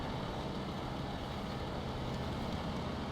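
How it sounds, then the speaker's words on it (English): Heavy truck engine in SnowRunner, grinding along in low range: a steady, dense droning rumble with constant mechanical noise and no breaks or talking. "This truck is just absolutely hammering through here."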